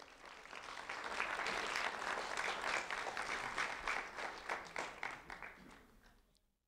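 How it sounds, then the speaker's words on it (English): An audience at a student recognition ceremony applauds fourth grader Isaiah Luis, a moderate, steady wash of many hands clapping that swells early, holds for several seconds and then fades out. "A round of applause for Isaiah Luis."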